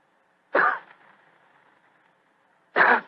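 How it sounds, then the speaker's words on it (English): A man's discreet cough in a radio drama, two short throaty bursts with a quiet pause between them, close and alone with no talk. "After a moment, he gave what he thought was a discreet cough."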